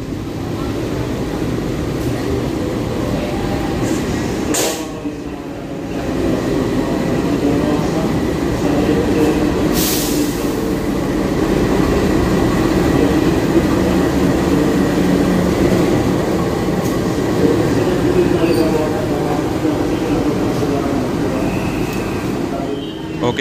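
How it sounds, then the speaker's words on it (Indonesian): The Dharmawangsa train stands at Cirebon Prujakan station in Indonesia, a steady loud rumble of the rail cars and engine continuing throughout, with a couple of sharp brief clanks and no speech heard. "Seperti kereta api Dharma Wangsa ini termasuk salah satu kereta yang berhenti di stasiun Cirebon Perujakan."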